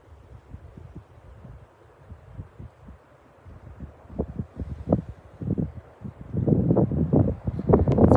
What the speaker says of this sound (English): It's very windy here on the back porch.